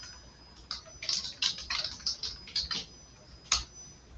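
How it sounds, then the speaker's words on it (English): Quick bursts of clicking keystrokes on a computer keyboard, close and fairly quiet, come in uneven clusters with short pauses and a final isolated tap. "I am literally just typing this straight off of their site."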